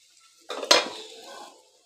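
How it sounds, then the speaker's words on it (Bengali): A metal utensil stirs vegetable chowmein noodles in a pan, giving one brief clatter and scrape, loud and close, that fades into soft rustling against near silence. "এবার নাড়াচাড়া করে ভালোভাবে সব চাউমিনের সাথে সবজিটা মিশিয়ে নিতে হবে"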